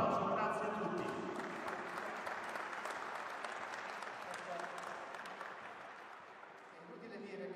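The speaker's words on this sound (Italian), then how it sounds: "un applauso, grazie a tutti" An audience applauds a town mayor at a public event with sustained dense clapping, loud at first then gradually thinning, with some talk mixed in beneath it.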